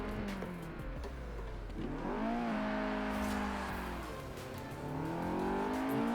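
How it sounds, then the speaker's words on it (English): A Fiat 131 Abarth rally car in Forza revs its engine, rising and falling in pitch across several throttle sweeps, loud and close with no talking. "Yeah, that sounds pretty decent."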